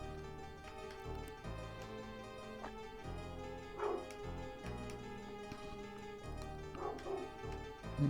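A dog barks outside in short bursts, faint and distant beneath steady game music and sound effects from a Breath of Fire playthrough.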